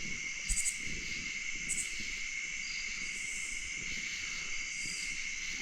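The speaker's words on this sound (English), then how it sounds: "the crickets and tree frogs and all that stuff all around you" Steady high-pitched chorus of crickets and tree frogs trilling continuously at night at a campsite on abandoned coal mine land, with faint rustling below and a few brief louder chirps.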